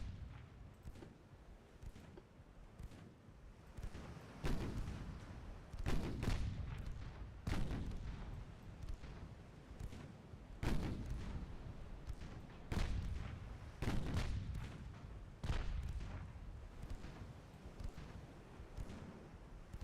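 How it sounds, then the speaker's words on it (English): Warship broadside fire in the naval game Ultimate Admiral Dreadnoughts: a series of heavy booming gun salvos every couple of seconds, each a sharp thump with a rumbling tail, over continuous low wind-like rumble. "Open up and give him a full broadside"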